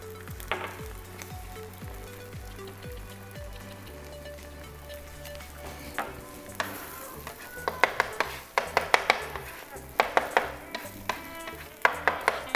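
Eggs frying on a flat breakfast griddle, a steady sizzle at first, then sharper clicks and scraping taps from a spatula building toward the end, close and moderately loud with no talking.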